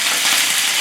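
A dense, steady sizzle of raw chicken frying in a hot pan for a stir-fry, loud and close, with no speech.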